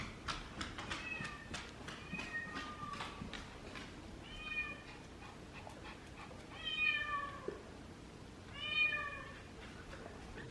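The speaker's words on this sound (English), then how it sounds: "And listen to her cat." A house cat meows repeatedly in a cluster of insistent, rising cries, fairly close and loud, with quieter stretches of room noise between calls and no talk over them.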